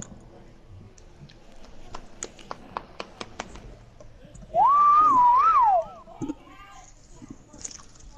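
A person whistles a short, loud, wavering melodic phrase up close, lasting about a second, after scattered clicks and children talking indoors.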